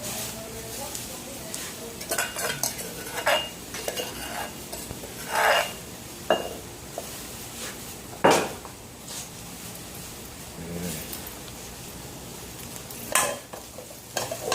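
Chili paste for fish larb stir-fried in a pan, a close, steady sizzle with repeated scraping and rubbing strokes of the spatula and occasional sharper knocks against the pan, under intermittent background voices.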